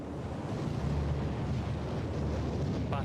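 Naval bombardment of the Normandy coastline on D-Day by battleships, cruisers and destroyers, heard as a continuous heavy low rumble of distant gunfire, steady and dense throughout with no speech.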